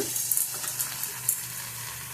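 Ginger, garlic and coriander leaves fry in a pan as masala for a sea crab curry, a steady close hiss of sizzling oil with soft stirring taps and no voices.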